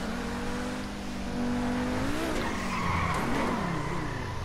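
A Pegassi Tempesta supercar in GTA Online revs its engine with rising pitch while its tires squeal and skid, a loud, continuous game sound with no talking over it.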